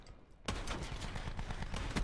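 Shotgun blasts in a video game firefight, a loud burst of gunfire erupting after a quiet start and continuing as rapid repeated shots close by.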